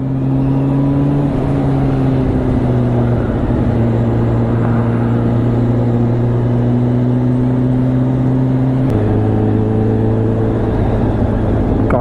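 A Kawasaki Ninja H2 motorcycle drones steadily while riding home after traffic, its engine hum holding one even pitch, then shifting once near the end, loud and close throughout.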